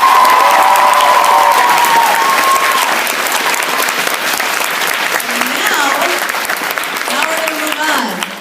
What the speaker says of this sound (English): let's do a round of applause for everybody in the beginners category